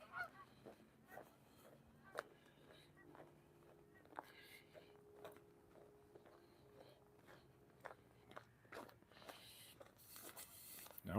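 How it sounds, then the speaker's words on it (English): A flock of geese flying over a lake in snowy Regina honks in scattered, faint calls, with soft handling noises and rustles close by throughout. "You can probably hear the geese going over."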